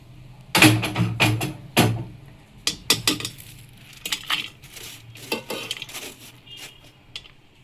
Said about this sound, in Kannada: ಈಗ ಇದನ್ನೆಲ್ಲ ಒಂದು ಬೌಲ್ಗೆ ಹಾಕ್ಕೊಂಡು ಮಿಕ್ಸ್ ಮಾಡ್ಕೊಳ್ಳೋಣ